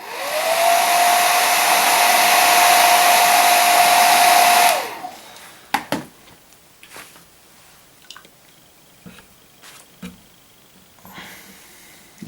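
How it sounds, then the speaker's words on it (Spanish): A hair dryer blows steadily and loudly for about five seconds while drying a base coat of diluted paint, then cuts off, leaving faint handling clicks and rustles. "Vamos a secar un poco con el secador."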